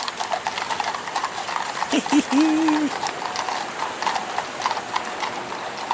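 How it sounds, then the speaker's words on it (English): Horse hooves clip-clop in a steady rhythm on a hard road amid busy outdoor noise, with a short neigh partway through. "Listen to that click-clop."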